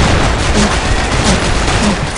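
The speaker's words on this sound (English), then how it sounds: "Grenade." A grenade goes off in a Counter-Strike style shooter: a loud, dense, sustained blast of broadband noise that fills the whole moment with rough crackle and rumble.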